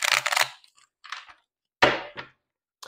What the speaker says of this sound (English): Let me shuffle this real good.